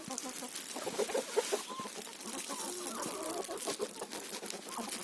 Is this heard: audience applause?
no